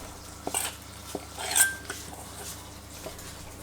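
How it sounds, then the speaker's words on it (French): A granola mixture is spread across a baking tray, heard as a few light scrapes, taps and rustles of utensil on metal, scattered and fairly quiet. "On met sur la plaque et on répartit sur la plaque."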